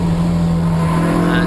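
Onboard a Toyota MR2 race car during a 2012 championship round at Donington Park, a loud steady engine drone with a strong sustained hum, close and continuous under a commentator's voice.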